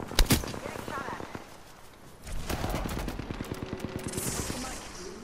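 Gunfire from the Apex Legends battle royale: sharp shots at the start, then rapid automatic bursts in quick repeated cracks over the second half, fairly close, with game voices and noise around them.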